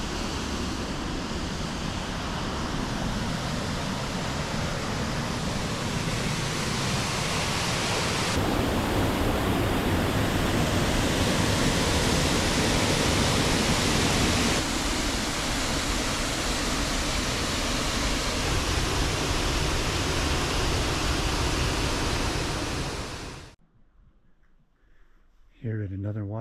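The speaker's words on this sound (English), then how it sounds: "It sounds amazing, but this waterfall is probably only about 12 feet tall" Loud waterfall roughly 12 feet tall in Southern Oregon, a dense, constant roar of rushing water filling the scene close up for over twenty seconds before cutting off abruptly.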